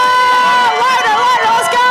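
Loud crowd cheering and whooping at a Helluva Boss fan panel at L.A. Comic Con 2024, a sustained roar of voices with high shouts rising above it, continuous from start to end.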